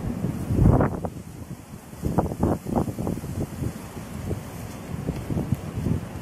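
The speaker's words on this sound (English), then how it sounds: "the wind's a little raw" Raw wind gusts buffet the microphone outdoors on a farm with healthy medium-frame cattle, rising and falling in uneven rumbling bursts, with no voices.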